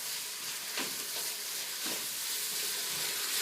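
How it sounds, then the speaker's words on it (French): Celery sizzles and crackles in a hot pot while being stirred for moules marinières, with a couple of soft stirring scrapes over the steady frying hiss. "Vous ajoutez le céleri, vous mélangez"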